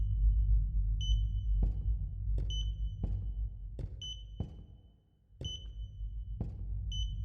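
A repeating electronic alarm: paired high beeps about once a second, each with a low thud, over a steady low rumble, briefly dropping out midway.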